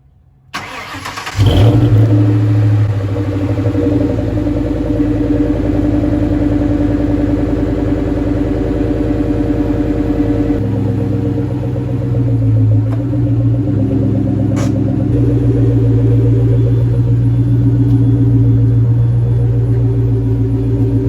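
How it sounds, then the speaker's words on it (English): A Ford SVT Cobra with a Flowmaster exhaust starts and then idles loudly and close by, holding a deep, steady burble with a slight change in tone midway. "I kind of like the sound of the Flowmaster a little bit more at idle."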